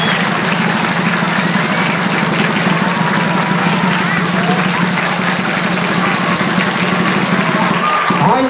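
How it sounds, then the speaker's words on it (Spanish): A large audience at a Mojiganga festival final in Tepalcingo applauds in a loud, sustained wash of clapping that continues steadily throughout without any voices standing out. "se va Britanny, póngale el aplauso"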